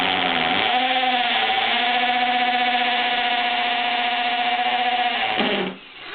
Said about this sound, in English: Okay, so I've been drilling away at this thing, 336 holes